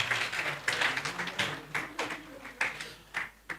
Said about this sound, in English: please clap for them, clap for them, clap for them.